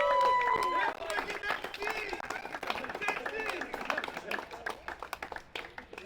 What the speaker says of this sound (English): we'll all give him the loudest round of applause to come forward